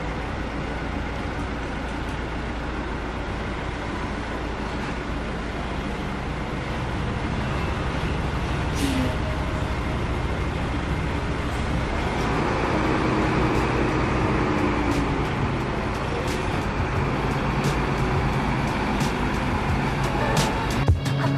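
Rosalia Indah bus HDD 155 pulling away from Jombor bus terminal in the evening, a steady low engine rumble and road noise that swells slightly after the first few seconds, with no talk.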